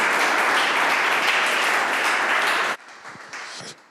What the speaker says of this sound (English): please give a big hand of applause to Carl